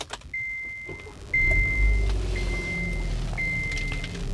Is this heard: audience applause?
no